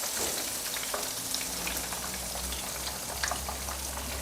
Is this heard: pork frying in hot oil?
yes